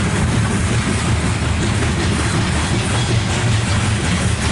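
A loaded CSX coal train rolls past on the rails, a loud continuous roar of wheels and cars with faint rhythmic clatter, steady throughout with no talking.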